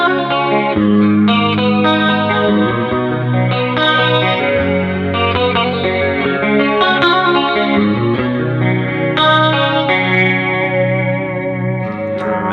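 Electric guitar through a MOOER GE-250 multi-effects unit, drenched in a warbling chorus effect, plays a continuous run of chords and melodic lines, loud and sustained.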